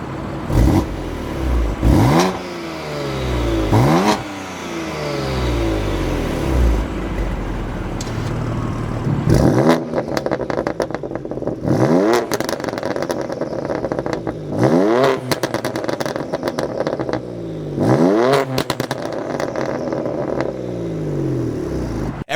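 A 650 hp 2016 BMW M3 with an Akrapovic Evolution titanium exhaust and quick-opening valves revs repeatedly, each sharp rise and fall of the engine loud and close, with short pauses between the blips.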